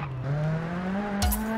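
Turbocharged rally car engine in the Sebastien Loeb Rally Evo game, droning steadily with rising revs, then a brief burst of tire and gravel noise near the end.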